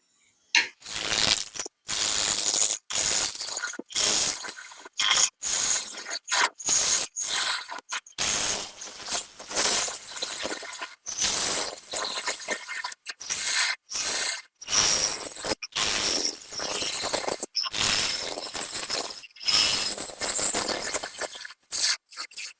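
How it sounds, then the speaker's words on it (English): A 3/8 bowl gouge cuts a spalted beech platter on a wood lathe, producing loud, bright scraping bursts broken by frequent short pauses, close and with no talk. "I'm going to stick to the 3/8 bowl gouge."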